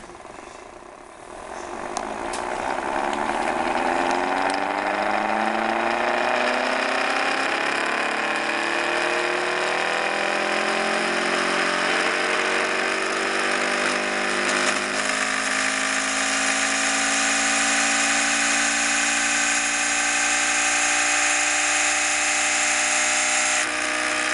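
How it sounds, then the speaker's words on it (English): An electric motor with two coils running together hums and whines, its pitch rising steadily as it spins up, then holds a loud, continuous mechanical drone. "with both of them running together, you can hear it wind up now here"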